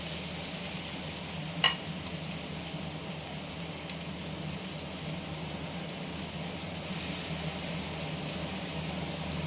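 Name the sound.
snake gourd frying in a kadai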